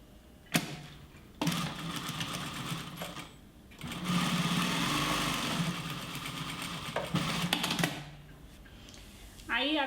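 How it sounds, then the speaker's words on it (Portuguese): A sewing machine stitches a seam on a multipurpose wallet, running in a few bursts of steady mechanical whirring with short pauses between, close and fairly quiet. "bater outra costurinha"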